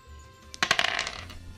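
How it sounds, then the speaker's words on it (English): Dice thrown during a children's board game clatter and skitter across the board in a quick burst of small hard taps that settle after about a second, close and moderately loud, with no talk. "Throw that dice."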